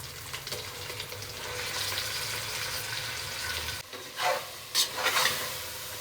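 Marinated chicken sizzles steadily in hot tempering oil, then a few clattering stirs and scrapes ring out near the end; nobody speaks.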